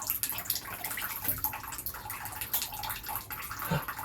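Shower water sprays steadily onto a green cheek conure, a continuous close hiss and patter of falling water with small splashes, no talking.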